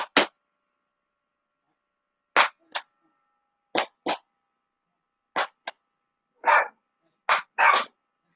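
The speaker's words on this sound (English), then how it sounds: "I got to bring in my dog that's barking outside" A dog barks outside in short separate bursts, some single and some doubled, spread across the stretch with silent gaps between them, moderately close and clear, with no talking.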